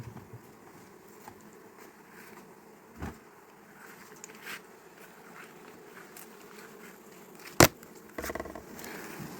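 Honeybees buzz in a steady low hum close by at an open hive in Kharkiv Oblast, with occasional sharper knocks and bumps of handling over the droning swarm.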